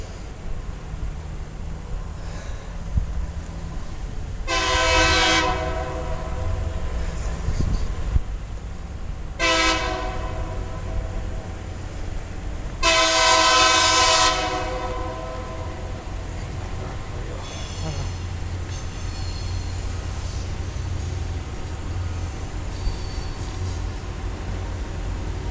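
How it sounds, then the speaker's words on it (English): A CSX W059 rail grinder train heads northbound on a CSX subdivision near Van Wyck, South Carolina, sounding three horn blasts over a steady low rumble of the passing train heard from trackside. "We got a W059 rail grinder train coming northbound on the CSX Subdivision"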